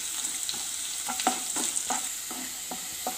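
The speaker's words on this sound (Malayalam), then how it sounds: "ആദ്യം കറിവേപ്പില ഇടുന്നത് പിന്നെ ഇഞ്ചി വെളുത്തുള്ളി എന്നിവയിട്ട് നന്നായിട്ട് വഴറ്റുക" Curry leaves, ginger and garlic sautéing in hot oil, a soft steady sizzle with light, irregular spatula scrapes and taps, close but quiet and with no talk.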